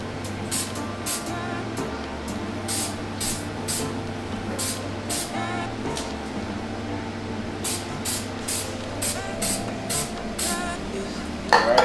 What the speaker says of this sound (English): I typically just spray it like once or twice in each direction